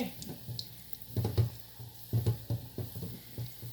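Bread chicken cheese balls, four pieces, frying in deep hot oil, a soft crackling sizzle that swells in a few bursts, fairly quiet and close.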